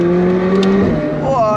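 A McLaren supercar with a 765-horsepower engine revs hard as it accelerates, a loud, close engine tone climbing in pitch before shifting, with people talking over it inside the cabin.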